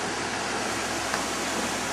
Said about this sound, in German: Der Fluss.